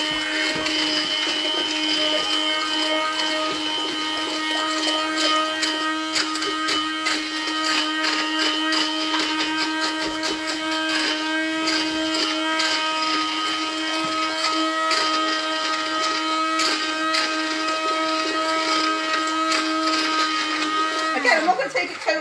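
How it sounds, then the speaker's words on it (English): A blender blitzing curry sauce for homemade kofta meatball curry, a steady loud motor whine running unbroken for about twenty seconds before cutting off at the end. "Okay, let's go and give it a blend."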